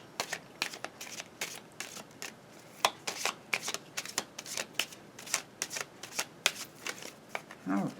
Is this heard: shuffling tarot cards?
yes